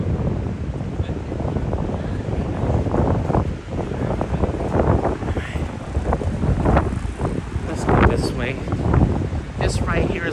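Strong evening wind buffets a phone microphone outdoors on a New York City walk near the World Trade Center, a constant loud rumbling roar with gusty bursts throughout, water sounds faintly beneath.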